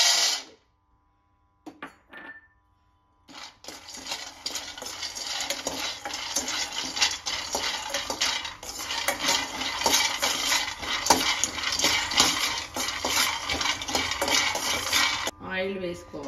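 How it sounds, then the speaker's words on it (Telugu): Peanuts roasting in a pan for bitter gourd kaaram, with steady scraping and stirring of a utensil against the pan and faint crackle, sustained and close after a brief quiet start. "ఇప్పుడు పల్లీలు వేయించుకోవాలి"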